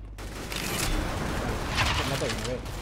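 Shots from an R8 revolver pistol in CS:GO, two or three bursts of fire close by over continuous game noise, with voices heard briefly.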